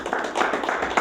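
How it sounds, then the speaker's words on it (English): Audience applause for a panel at a writers' event, a steady wash of clapping from a room of people, moderately loud and continuous with a brief swell at the end. "Let's give them a round of applause"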